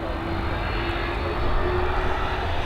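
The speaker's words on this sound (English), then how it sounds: "We've got a 787-9 series Dreamliner operated by WestJet coming in after a 7-hour and 10-minute flight from Calgary" WestJet Boeing 787-9 Dreamliner landing at Dublin after a flight from Calgary, a steady jet engine rumble with a faint whining tone, moderately distant and continuous, no talking.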